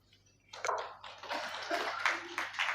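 Scattered clapping breaks out among people gathered for a meditation session at a Kabir ashram. It starts abruptly after a quiet moment and holds as close, uneven handclaps for a couple of seconds.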